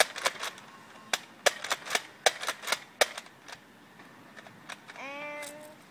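A Nerf Lumitron blaster fires in rapid fire, giving a quick run of sharp, close snapping shots at uneven spacing that thin out before a whirring mechanical sound with a rising tone at the end.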